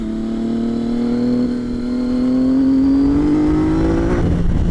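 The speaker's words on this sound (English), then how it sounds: "I do like this exhaust." A Triumph Tiger 800 motorcycle with GR Moto exhausts drones steadily and loudly, its exhaust note rising in pitch as it accelerates, then roughening briefly.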